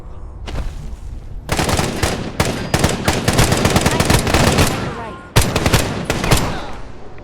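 Gunners in a ruins-survival video game firing machine guns, long loud rapid bursts of automatic gunfire with short gaps between volleys, close and dominant.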